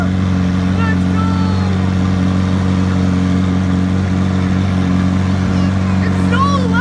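An exotic car at a car show sits running with a loud, steady, deep engine drone. The rumble is constant and close throughout, with faint excited voices in the background.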